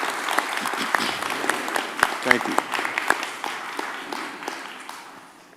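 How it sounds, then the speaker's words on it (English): An audience at a mayoral and council candidates' forum bursts into a round of applause, dense steady clapping from the crowd that slowly fades, with a brief spoken thanks over it. "Audience, let's give these candidates a great round of applause."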